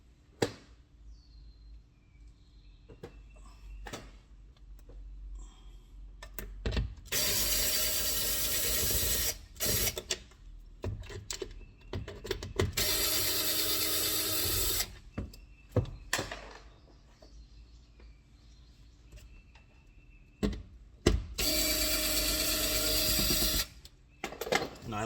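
Whirring bursts of a power driver spinning out door speaker screws on an Audi S5 B9.5 with a T20 Torx bit, three loud multi-second runs separated by quiet handling clicks and rustles.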